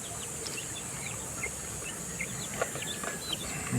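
Hens and their half-grown chicks cluck and peep softly around a nesting area, with scattered short chirps and calls over a constant background hiss.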